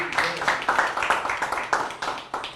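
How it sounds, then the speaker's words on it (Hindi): An audience claps in a dense, steady patter to welcome Captain Digendra Singh at an Independence Day event, with overlapping hand claps close and continuous throughout. "बहुत बहुत स्वागत है आपका, तालियों से"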